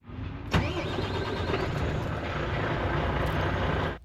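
A large diesel lorry engine runs steadily and loudly close by, with a sharp click near the start and a constant whirring drone throughout.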